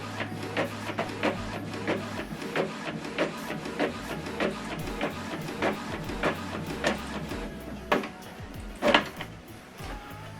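An Epson printer printing a double-sided colour page, giving a steady run of rhythmic mechanical clicks and clacks with a low motor hum, fairly quiet and close, ending in a couple of louder clunks.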